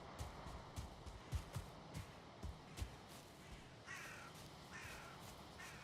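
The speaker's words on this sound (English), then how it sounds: "All right, I can hear crows." Crows caw repeatedly in the Valheim video game, quiet and distant, a string of harsh calls in an irregular rhythm over a steady outdoor ambience.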